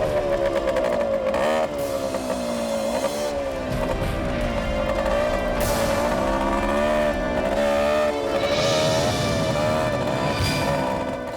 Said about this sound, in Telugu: ఇక్కడ బైక్ చప్పుడు ఎక్కడి నుంచి వస్తుందిరా?